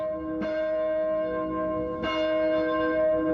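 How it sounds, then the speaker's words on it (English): A church bell rings twice, each strike sharp and resonant with a long sustained hum, the second toll about one and a half seconds after the first. "you could tell which church it was by the sound of the bell"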